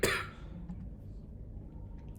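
A single short, harsh cough at the very start, followed by quiet room noise and a faint brief sound at the end.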